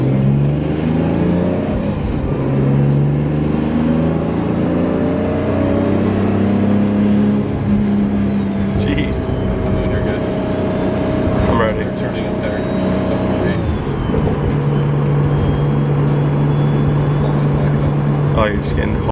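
A Nissan Skyline engine and exhaust under way while driving: a steady, loud droning tone that rises through the revs, dips briefly as the gear changes, then settles into a lower hum, with people talking inside the car.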